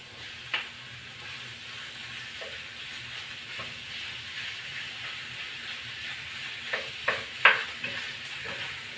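Pork meat sizzling in a pan with sautéed garlic and onion, a steady frying hiss with occasional sharp pops and spatters, plus a few stirring scrapes toward the end, close and moderately loud.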